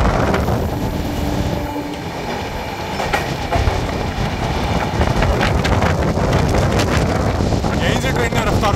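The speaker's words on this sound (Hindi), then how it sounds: "यहीं से ट्रेन ने रफ्तार पकड़ लिया भाई।" Humsafar Express 12276 running from Delhi toward Prayagraj, picking up speed: a loud, continuous rumble of rolling wagons with rhythmic wheel clatter and wind buffeting, building steadily over the whole stretch.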